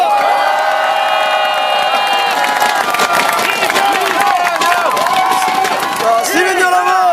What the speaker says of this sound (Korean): 이재명 대표님께 다시 한번 큰 박수를 부탁드리겠습니다